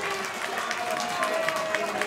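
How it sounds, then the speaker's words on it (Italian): Home crowd at an amateur football match applauding a goalkeeper's big save, a steady wash of distant clapping and crowd noise under continuous commentary. "Applausi scroscianti da parte del pubblico di casa."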